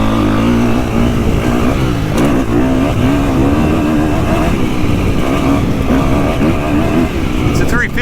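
A 2025 KTM 350XCF dirt bike engine revs hard on a GP woods loop, a loud, close, continuous buzzing drone rising and falling with throttle under a rider's voice.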